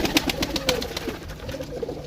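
Pigeons cooing nearby, soft repeated throaty coos over a rough outdoor background.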